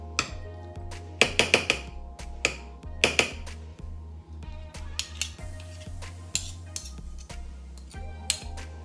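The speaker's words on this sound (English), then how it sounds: "So I'll go ahead and stir this up." Baked beans with molasses and ground beef stirred in a dish: a spoon taps and clinks against the sides in irregular sharp knocks, some in quick clusters, close and distinct over a low background hum, with no talking.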